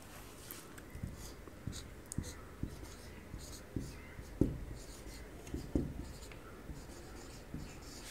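Handwriting with a pen on paper, writing a single word by hand: soft scratching strokes with light taps, close and fairly quiet, over faint room noise.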